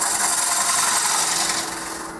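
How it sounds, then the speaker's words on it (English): A small scraper blade shaves wood in a brief, close, rasping stroke that fades slightly at the end, with no voices. "Nice little scraper blade."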